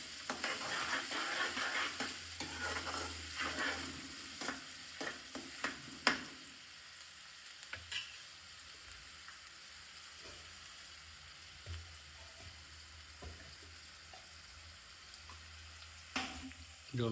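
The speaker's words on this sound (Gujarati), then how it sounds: "આપણે ડુંગળીને સારી રીતે મિક્સ કરી દઈએ પહેલાં." Onions fry in a pan to a low sizzle while a spoon stirs and scrapes in bursts, busy at first and then quieter with occasional taps.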